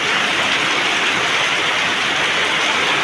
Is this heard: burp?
no